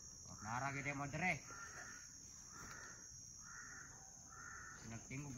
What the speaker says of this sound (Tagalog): Sinagtingog ng uwak.